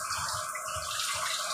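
Water runs steadily from a tap for washing, a continuous close splashing rush with no talk.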